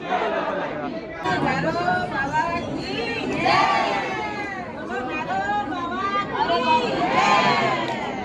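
Dense crowd of temple visitors at Kal Bhairav temple in Ujjain, a steady babble of many overlapping voices with occasional louder calls and shouts rising above the chatter throughout.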